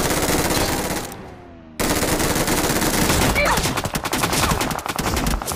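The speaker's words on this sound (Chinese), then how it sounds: "有其他队闻着枪声过来了" Machine gun fire in a mobile battle-royale shooter game crackles in dense, loud bursts, broken by a brief quiet gap, then resumes as rapid overlapping volleys with other gunshots.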